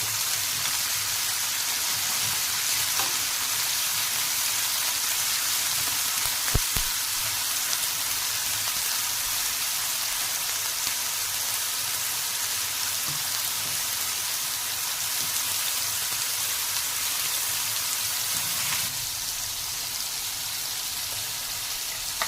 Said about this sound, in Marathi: दोडके परतल्यामुळे काय होतं की त्याची टेस्ट चांगली लागते आणि ते लवकर शिजतात